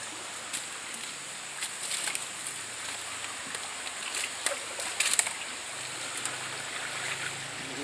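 River water flowing in an outdoor setting where fish are being released, a steady broadband wash with a few faint splashes and trickles, fairly constant and moderately close, without talk.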